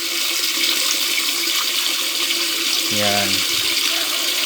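A DIY float valve lets water rush steadily into a tank, a loud continuous splashing flow close by, with a brief spoken word partway through.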